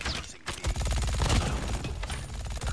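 An MG42 light machine gun in a video game fires long, dense bursts of rapid shots, loud and close, with only a short gap near the start and no talking.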